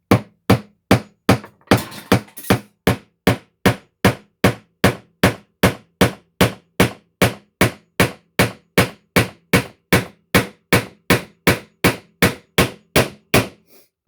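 Steady, loud hammer blows drive nails into the wooden handle of a hand tool tote, a long unbroken series of sharp, evenly spaced knocks at roughly two per second, with no talking.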